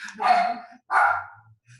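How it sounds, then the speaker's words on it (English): A dog barking indoors, two sharp nearby barks in quick succession, followed by faint low rumbling. "sorry, my dog"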